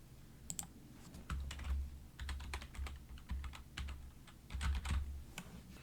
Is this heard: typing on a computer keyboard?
yes